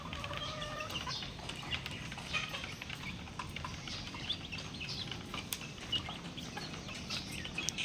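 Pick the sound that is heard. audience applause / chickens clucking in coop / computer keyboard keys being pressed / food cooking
chickens clucking in coop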